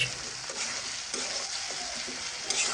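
Sliced onions frying with salt in a pan give a continuous loud sizzle, with occasional stirring scrapes close by and no voices.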